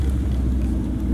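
Nissan GT-R at an outdoor cars and coffee meet on a cold, windy day, a low engine rumble that is steady and moderately loud for a brief moment.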